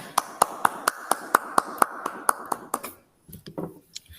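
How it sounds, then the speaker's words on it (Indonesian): Hands clapping in a classroom for a student group, a dozen sharp, evenly spaced claps in a steady rhythm from a single nearby clapper, then stopping, followed by faint voices. "Kita beri tepuk tangan untuk Eka dan kelompoknya."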